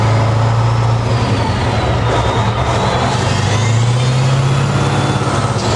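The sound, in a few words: Mack truck engine revving as it accelerates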